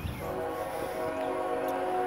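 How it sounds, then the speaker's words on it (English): A train horn blows in one long sustained chord, fairly loud and steady from a distance outdoors, with no talk over it. "y'all hear that train blowing?"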